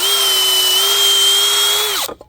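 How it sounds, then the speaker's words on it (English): An old DeWalt power drill pre-drills scrap wood offcuts with a loud, steady high whine that holds for about two seconds, then winds down and stops abruptly. "I'm pre-drilling these"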